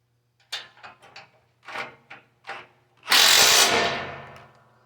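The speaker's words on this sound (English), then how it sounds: "Now we take our 3/8 locking nut, put it on there. It'll be a 9/16 socket." A 3/8 locking nut being spun onto a bolt with a 9/16 socket on a power tool during a Ferris IS600Z mower chute blocker kit install: several short clicking, ratcheting bursts, then one loud, close whirring run of about a second fading out.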